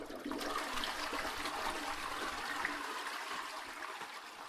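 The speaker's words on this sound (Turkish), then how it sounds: "Kim girip sifon çekmedi?" A toilet flushes inside the Beach Club Simulator game, heard as a steady rushing swirl of water that holds at an even level for several seconds before easing slightly.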